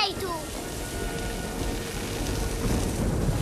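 Steady heavy rain pours down under a low rumble of thunder, a dense continuous wash of noise that stays fairly loud throughout.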